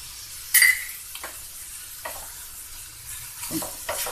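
Ginger garlic paste fries in a pan for baby corn gravy, a soft steady sizzle under a few sharp clinks and scrapes of a spoon stirring against the pan.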